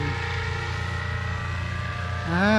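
A small aircraft's engine drones steadily in flight, a constant humming buzz with a faint voice rising briefly near the end.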